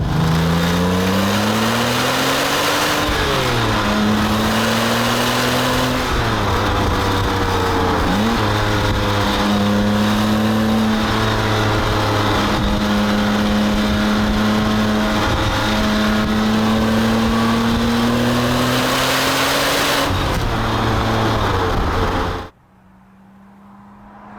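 A Porsche 911 Turbo of the 997 generation revs hard through several gear changes, pitch climbing and dropping repeatedly, loud and close, before cutting off abruptly near the end.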